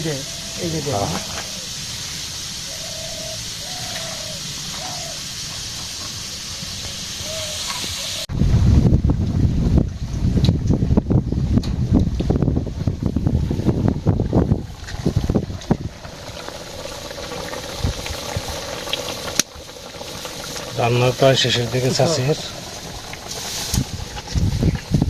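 Wind blowing outdoors in a village, heavy gusts buffeting the microphone in rough bursts after a calmer start, with people talking intermittently over it.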